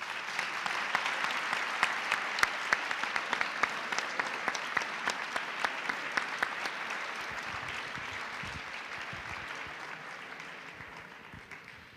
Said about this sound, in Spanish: yo creo que un fuerte aplauso.